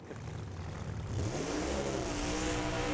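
A supercharged Chevy Camaro Pro Mod drag car engine at an NHRA race in Bristol builds from a rumble into a loud, rising rev that holds strong and close.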